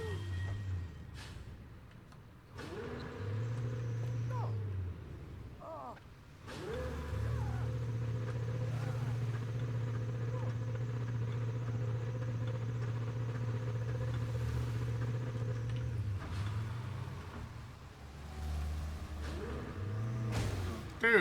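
A borrowed truck in Just Cause 3 idles, then revs and drives off in long sustained engine drones broken by short pauses and gear shifts, loud and close throughout with brief clunks between.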